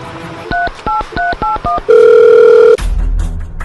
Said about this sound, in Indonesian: Bentar ya, aku telepon dulu.